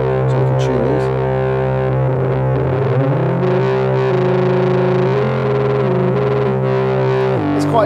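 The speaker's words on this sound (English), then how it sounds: "We've got an overdrive here on the filter" A Novation Bass Station II synth plays a gritty bass line through its filter overdrive, loud and sustained, with sliding pitch changes and no voice.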